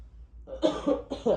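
A couple of harsh, close coughs in quick succession, short and raspy, with a brief gap between bursts.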